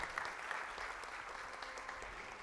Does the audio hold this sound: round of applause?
yes